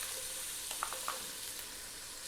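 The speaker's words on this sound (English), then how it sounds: "What we're going to do is drop in our chopped onion." Chopped onion dropped into hot oil with the heat turned off, giving a quiet, steady sizzle and gentle frying crackle with a few brief stirring clinks.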